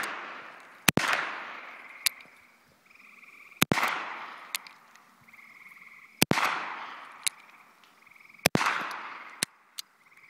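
Four sharp, loud gunshots from an antique Colt 1892 double-action revolver chambered in .41 Colt, fired outdoors at a puddle, spaced a few seconds apart, each with a long ringing decay and no talk.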